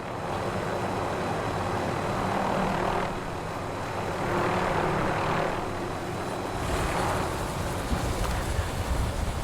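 Helicopter in the Warzone video game, a steady rotor and engine roar that holds loud and close throughout, with slight swells in intensity and no voices over it.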